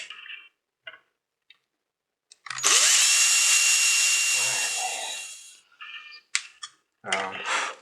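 A power drill bores a screw hole for a Titan universal cheekrest on a CZ 457 MTR rifle stock, whirring loudly and steadily for about three seconds, framed by brief ticks, clicks and short bursts of handling noise.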